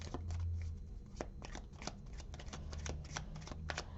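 White Sage Tarot cards being shuffled by hand, a steady run of quick papery riffles and flicks, close and fairly quiet, with no talking.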